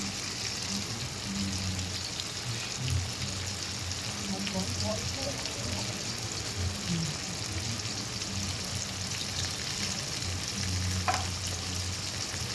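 Garlic paste frying with tomato in mutton fat for ghugni gives a steady, moderate sizzle, with occasional light stirring and soft crackles throughout.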